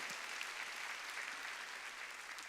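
Church congregation at a Sunday worship service claps together in a continuous, even patter, fairly faint and distant, with no voices over it.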